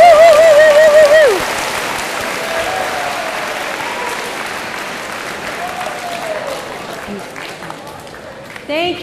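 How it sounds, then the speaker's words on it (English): A voice whoops at the start, then a crowd applauds steadily for several seconds, gradually quieting. "please give a round of applause to your awesome partners"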